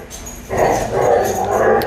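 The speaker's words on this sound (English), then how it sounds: "Here comes the dogs. They're going to start fighting." Dogs scuffle in rough play, with growls, yips and snarls rising sharply midway and continuing loud and close.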